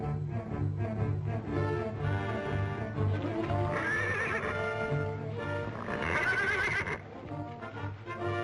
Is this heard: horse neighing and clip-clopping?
yes